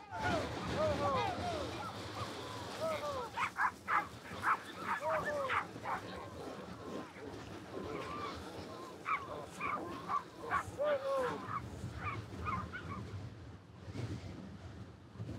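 Reindeer herders' dogs bark in repeated yapping bursts at a middling distance, some whimpering mixed in, over a steady outdoor background with voices around them.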